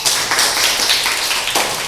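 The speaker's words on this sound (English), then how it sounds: "All the class clap for Hardik." A classroom of pupils claps together in a short burst of dense, close applause lasting a couple of seconds.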